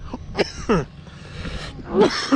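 A few rough coughs and throat-clearing bursts, close and fairly loud, separated by short quiet gaps.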